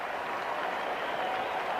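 A large cricket crowd applauds at the Sydney Cricket Ground in murky light, steady dense clapping filling the air without a break.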